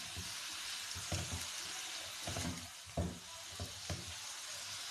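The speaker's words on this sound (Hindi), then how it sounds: "इसको हम लोग कुछ देर के लिए तेज़ आंच पर पकाएंगे" Balti gosht masala with tomatoes and garam masala powder sizzling steadily over high heat, a dense continuous fry broken by several soft knocks and scrapes of stirring, close and alone with no talk.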